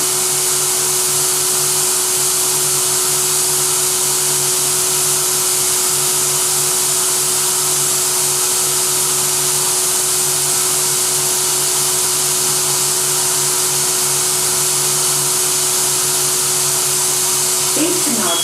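Steady broadband hiss of an automated spray tanning booth nozzle misting in a Versaspa booth, with a constant hum beneath it, running continuously and evenly at close range with no voices over it.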